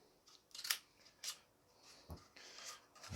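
Scissors cutting into an empty cardboard toilet roll tube: a handful of crisp, separate snips and rustles spaced over a few seconds, close up and fairly quiet, with no talking.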